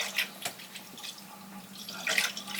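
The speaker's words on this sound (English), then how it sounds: "unsweet coconut milk is next" Unsweetened coconut milk pours and splashes into a container, a close, continuous liquid trickle with brief drip-like spatters.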